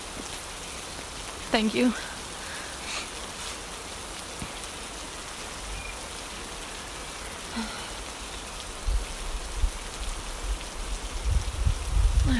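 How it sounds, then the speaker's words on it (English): Steady rain falls throughout, a continuous broadband patter on surfaces with a few louder close drops, while a soft voice speaks briefly near the start. "I hope the rain stops soon."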